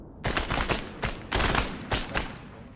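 Gunfire in the Arma military video game, several loud close shots in short bursts and single reports spread across a few seconds, with no talking.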